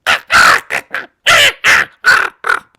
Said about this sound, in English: that's the sound of a raven saying, "Get off my back, buddy. Don't peck my eyes out.